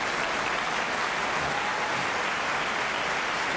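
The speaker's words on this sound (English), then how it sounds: "And the crowd here at the Grand Prairie Curling Club appreciating the play of both teams." A curling crowd at the Grand Prairie Curling Club applauds during a skins game final, a steady, even wash of clapping from many spectators with no talk over it.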